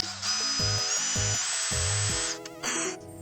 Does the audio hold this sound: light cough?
no